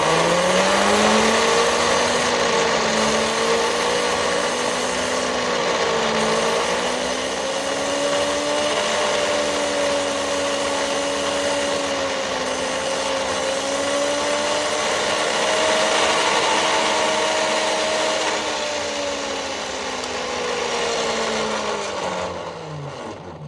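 A homemade DC motor model runs fast at full voltage, giving a loud, steady whine that rises and falls slightly in pitch, with no voices over it.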